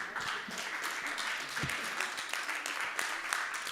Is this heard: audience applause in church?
yes